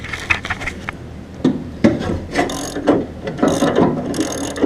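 A breaker bar working on two nuts tightened against each other, heard as a run of clicking ratchet strokes and creaking metal effort, close and uneven in rhythm.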